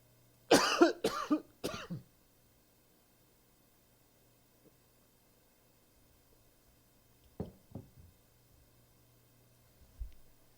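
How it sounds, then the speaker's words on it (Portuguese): Three harsh coughs in quick succession, close to the listener, followed by a quiet pause and then a couple of softer throat sounds. "comecei a tossir, a garganta ficou seca"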